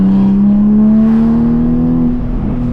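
A Toyota Supra engine holds a loud, sustained, steady rev close by, a deep droning tone that rises slightly before easing off near the end, with no clear exhaust pops standing out.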